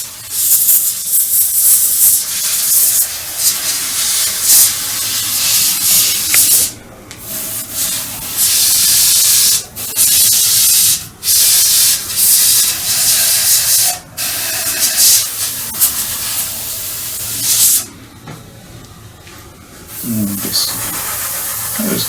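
Airbrush spray paint hissing steadily as an overall coat goes onto a scale StuG III Ausf G tank model, bursts of broadband hiss broken by short pauses and a few quiet clicks.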